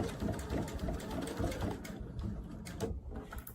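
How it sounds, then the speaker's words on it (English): Sewing machine stitching the flap of a messenger bag close to the edge: a continuous, rapid mechanical whirring and clatter, quiet and steady for the whole few seconds, with no talking. "you're going to want to sew those together very close to the edge"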